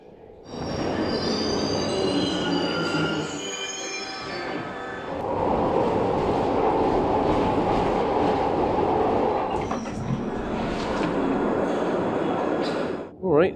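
A Glasgow Subway train pulls away from Hillhead station, its wheels squealing in long high whines over a steady rolling rumble and rail clatter inside the carriage, loud and close throughout, with people talking faintly in the background.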